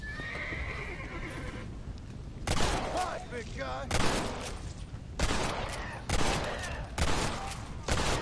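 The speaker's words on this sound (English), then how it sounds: "I hear gunfire." Bursts of rapid gunfire crack out repeatedly amid galloping hooves and a horse whinnying, with voices mixed in, in the video game Red Dead Redemption: Undead Nightmare.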